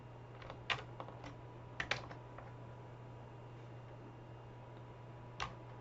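Sparse keyboard typing: a few clustered keystrokes early, then a lone click near the end, over a steady low hum in a quiet room.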